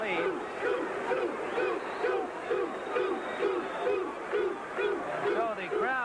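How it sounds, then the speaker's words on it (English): A boxing arena crowd of Thomas Hearns fans chants in a loud, rhythmic repeated phrase, many voices rising and falling in unison with a steady beat, over a general crowd roar. "the crowd here of Hearns fans chanting 2-2-2"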